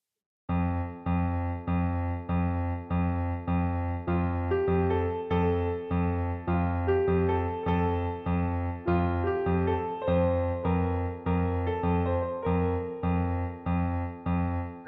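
Piano melody in three-note groupings laid over a two-beat pattern, with a steady pulse of repeated chords running continuously underneath for about fourteen seconds, close and moderately soft with no voices.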